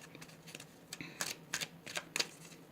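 Tarot cards being shuffled by hand, a run of crisp riffling bursts that grow louder toward the end, close and alone in a quiet room.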